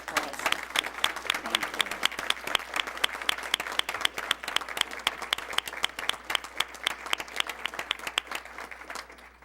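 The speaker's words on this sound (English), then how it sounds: "please join me with a big round of applause" Sustained applause from an audience at a public school board meeting, dense and steady clapping from many hands filling the room for several seconds before tapering slightly at the end.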